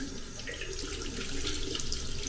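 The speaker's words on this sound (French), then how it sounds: "Je me lave les mains pour aller à la douche." A tap runs steadily into a sink while hands are washed under it, giving a continuous close splashing hiss with no talk.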